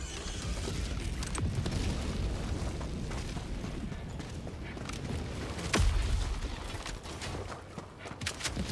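A 500 kg bomb in Helldivers 2 slams into an Automaton mortar emplacement with one heavy, deep blast partway through, set against a continuous rumble of distant combat and scattered pops.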